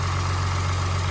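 A truck with a swapped engine idles steadily, a loud, constant low rumble with an even hum that holds without change from start to end.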